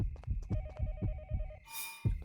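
A telephone rings repeatedly in the horror video game Yomawari, a rhythmic electronic trill pulsing in short bursts over a steady low thumping pattern, fairly clear and close with no talking.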